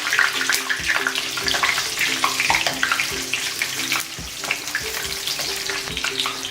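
Potato onion balls deep fry in hot oil, a dense, bubbling sizzle that stays loud and steady throughout, heard up close with no speech.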